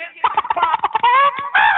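A chicken clucks in a rapid, close, loud series of sharp choppy calls that ends in a longer drawn-out squawk, with no voices heard.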